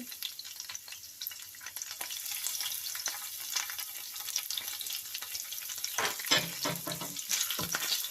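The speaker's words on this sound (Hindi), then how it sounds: "इसको थोड़ा सा फ्राई करेंगे ताकि कच्चेपन की स्मेल ख़त्म हो जाए।" Crushed ginger and garlic frying in a pan, a continuous bright sizzle with a spatula stirring and scraping now and then, close and steady, no talking.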